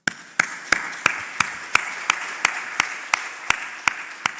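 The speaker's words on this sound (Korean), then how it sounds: "다시 한번 감사와 격려의 박수 한번 들려드립시다" A church congregation clapping in a slow, even beat, about thirteen sharp claps spaced roughly a third of a second apart, loud and close with a bit of room echo.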